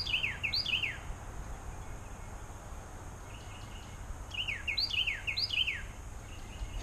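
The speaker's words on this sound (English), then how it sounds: "Don't the birds sound happy today?" Birds sing from a tree in short bright phrases of descending chirps, repeated in clusters at moderate distance over a quiet outdoor hum.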